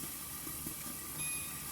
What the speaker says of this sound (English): as you can hear, the bacon is frying